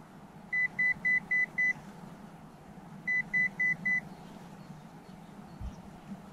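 Nokta Makro PulseDive metal detector responding to a weak signal, two bursts of five and four short, evenly spaced high beeps over a quiet outdoor background.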